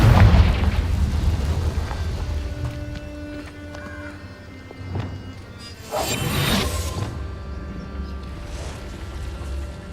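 A Confringo spell explosion in the video game Hogwarts Legacy inside a cave, heard as a loud boom followed by a burst of crackling debris, with a second swell of rumble a moment later.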